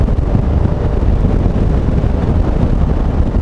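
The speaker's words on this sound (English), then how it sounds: "Man, that's windy." Strong wind buffets the microphone in a dense, steady roar while riding a Honda Africa Twin motorcycle, loud and unbroken with no voices.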